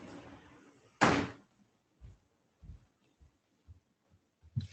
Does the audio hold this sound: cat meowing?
no